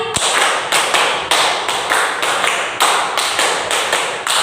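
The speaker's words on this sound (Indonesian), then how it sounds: "Tepuk 5 3 kali." A group claps in unison in a classroom training session, sharp close claps falling in quick repeated bursts of five with brief pauses between sets.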